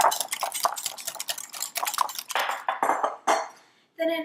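A utensil stirring milk, grapeseed oil and brown sugar in a bowl, giving quick repeated clinks and scrapes against the bowl's sides in an uneven rhythm, close and clear, ending with a short pause and a final knock.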